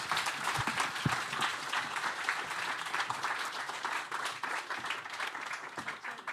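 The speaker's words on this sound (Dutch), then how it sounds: "Hartelijk applaus." Audience applause at a Dutch panel event on green pension investment, a dense steady clapping from a crowd, fairly distant and sustained throughout without breaks.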